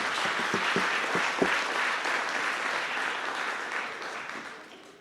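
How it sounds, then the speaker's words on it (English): An audience claps at an outdoor ribbon-cutting ceremony for a school performing arts center, a burst of dense applause with a few sharp claps early that gradually fades out. "I'm going to give the facility a hand clap."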